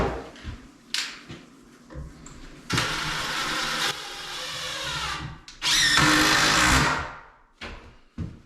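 A power drill drives a couple of screws while framing a closet wall in a 1985 doublewide mobile home, in several loud whirring bursts separated by short pauses, with no talk.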